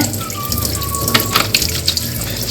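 Tap water runs steadily over hands being washed at a sink, a continuous close splashing flow with a few brief louder splashes partway through.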